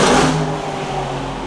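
A vehicle with a loud exhaust pipe roars past close by, loud and broadband, revving at first and then fading slightly into a sustained rumble with a low engine hum.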